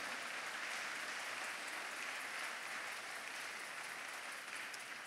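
Congregation clapping and applauding during a Sunday church worship service, a steady dense wash of many hands that holds at an even level throughout, fairly distant and reverberant, with no voices standing out.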